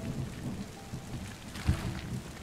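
Rain with rumbling thunder in the terraforming video game Terra Nil, a steady wash of falling rain with a deeper thunder swell near the middle, heard alone without any voices.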